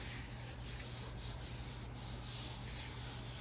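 Paper being rubbed by hand over a gelli printing plate, a soft continuous scratchy rubbing with slight rhythmic strokes over a low steady background hum.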